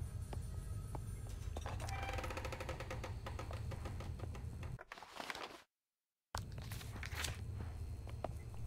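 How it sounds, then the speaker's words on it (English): Faint footsteps in the horror video game Maid of Sker tap at a steady pace over a low ambient hum, break off briefly into complete silence, then resume. "I can hear footsteps everywhere."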